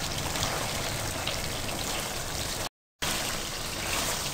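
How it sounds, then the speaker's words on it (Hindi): Garlic sizzles in a hot pot with beef that has been fried on high heat, giving a steady, dense crackling hiss like rain, briefly cut off by a short gap of silence. "अब मैं इसमें लहसुन डाल रही हूँ।"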